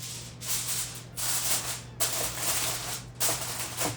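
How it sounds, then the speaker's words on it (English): Aluminum foil crinkles and rubs as it is pressed over a casserole dish of cheesy onion casserole, several rough scraping bursts in an uneven rhythm close up with a faint background hum. "I'm going to cover this with aluminum foil."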